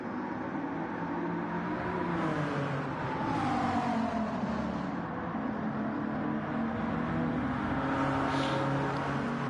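A Gr.1 race car that is nearly out of fuel runs at Kyoto Yamagiwa+Miyabi in Gran Turismo 7, giving a steady, loud engine drone whose pitch rises and falls gently as the car carries on, with no voices.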